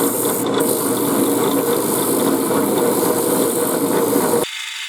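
A drill press bores into wood in a workshop building a wooden steam engine model, giving a steady, loud grinding whir that runs unbroken for about four and a half seconds, then cuts off abruptly.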